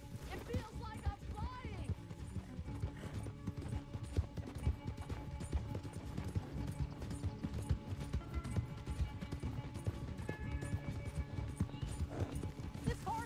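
Galloping horse hoofbeats in Red Dead Redemption 2, a steady clip-clop rhythm under game ambience and music, with someone talking over the ride at times.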